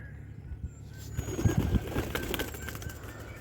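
A training pigeon takes off and flaps its wings in flight outdoors, making a brief burst of fluttering wingbeats at close range over low background noise.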